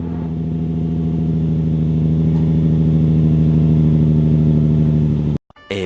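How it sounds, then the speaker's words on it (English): A Nissan 350Z VQ engine at cold start runs at a steady, loud, throbbing high idle for about five seconds, then cuts off abruptly near the end, leaving brief silence and a faint click. "Everybody loves a VQ cold start."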